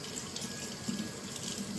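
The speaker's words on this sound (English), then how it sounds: "Wash the egg off my hands." Tap water runs steadily into a kitchen sink as egg is rinsed off hands, a continuous close splashing hiss with no voices.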